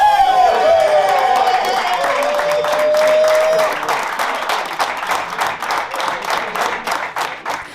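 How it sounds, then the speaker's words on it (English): Pitt basketball players erupt in celebration over making the NCAA tournament, with loud whoops and shouts giving way to bursts of rapid clapping. The group sounds close and boisterous, its voices overlapping throughout. "That was the boys at Pitt cheering because they're headed to the tournament."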